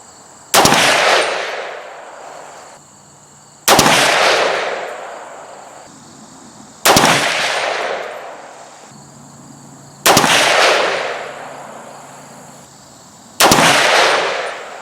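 A 300 Blackout rifle fires a hot H110 load under 168gr A-Max bullets, giving five loud, sharp shots spaced about three seconds apart, each with a long ringing decay outdoors.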